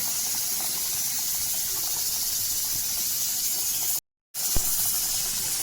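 Pabda fish curry simmering in a pot, a steady close hiss and faint bubbling that runs unbroken for several seconds, with a brief cut to silence and a small clink near the end.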